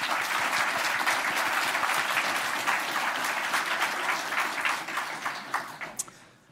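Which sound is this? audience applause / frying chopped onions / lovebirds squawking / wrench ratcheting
audience applause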